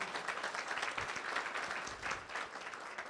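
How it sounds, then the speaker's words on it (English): Faint but dense applause from a crowd at a Hurricane Harvey flood recovery meeting, a continuous wash of many hands clapping together. "let's give ourselves a round of applause"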